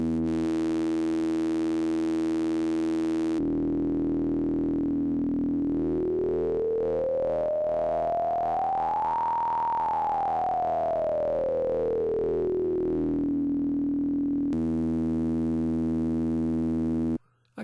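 Analog modular synth oscillator switched between hard and soft sync: a steady buzzy tone gives way to a smooth sweeping pitch that climbs and falls back, then the steady buzz returns, loud and alone.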